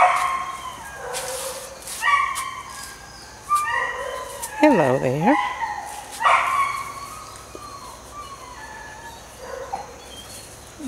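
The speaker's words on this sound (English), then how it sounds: "Nice dog" A dog barks and yips several times at close range, its calls mixed with a brief spoken greeting.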